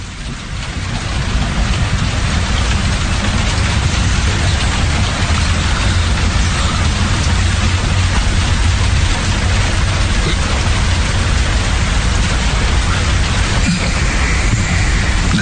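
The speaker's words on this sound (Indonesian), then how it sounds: "hujan mulai reda." Heavy rain pours in a horror video game, a dense, steady wash of noise that stays loud and unbroken throughout, with no voices over it.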